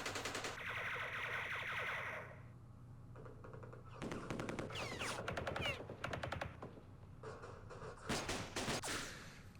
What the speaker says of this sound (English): It's just exchanging fire